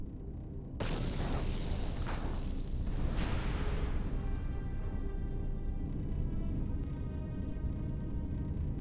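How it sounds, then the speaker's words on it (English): A sudden loud boom opens a big explosion in the video game Star Wars KOTOR II, then a long rumbling roar with crackling debris and a high whine that slowly fades but stays loud throughout. "we were about to dramatically escape from an explosion"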